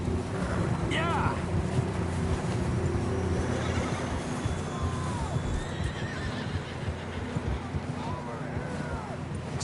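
Horses in the Red Dead Redemption 2 video game neigh and whinny over continuous hoofbeats and a blustery, wind-like background, with whinnies rising at intervals throughout.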